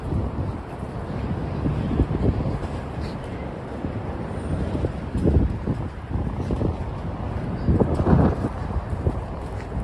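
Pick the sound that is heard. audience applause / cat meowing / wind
wind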